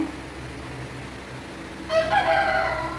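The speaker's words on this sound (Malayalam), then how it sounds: "മിറ്റത്ത് നിന്ന് ഭയങ്കര കൂവലാണ് കേട്ടോ" A rooster crows once from a short distance in a yard, a loud harmonic call rising out of quiet background hum and ending the clip.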